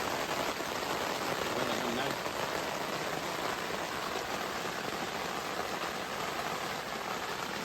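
Rain drums on a tent during a thunderstorm in the Lake District, a close, steady hiss of dense drops that continues unbroken, with a faint voice briefly audible beneath it.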